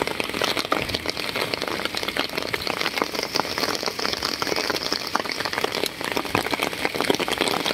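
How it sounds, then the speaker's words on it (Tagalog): Steady rain patters hard and continuously on a boat, with a low boat engine rumble idling underneath throughout. "Ayun na, binanata kami ng ulan."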